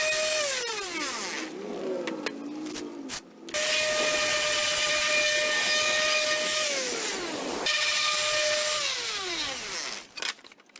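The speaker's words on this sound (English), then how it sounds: "I'm done with the sanding," A power tool sands a wooden Christmas ornament with a continuous whirring drone whose pitch slides as it spins up and winds down, running for several seconds in long stretches separated by short pauses.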